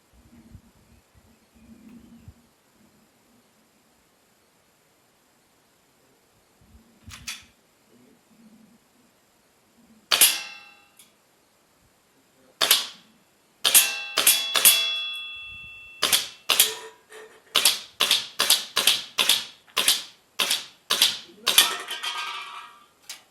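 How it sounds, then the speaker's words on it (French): Airsoft WELL MB4411 rifle and ASG Glock 17 pistol fired at a target about 10 m away, sharp snapping shots that come singly at first, then in a quick irregular string of loud cracks. "Je vais tirer sur la cible qui est là avec une autre caméra. Donc, on tire environ à 10 mètres."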